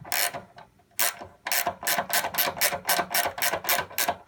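A ratchet tightening the belt tensioner on a Wright stander mower clicks close up in quick, steady bursts of pawl clicks, with brief pauses between strokes and no talk.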